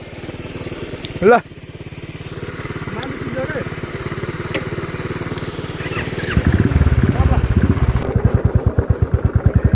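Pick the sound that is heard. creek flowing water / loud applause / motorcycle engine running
motorcycle engine running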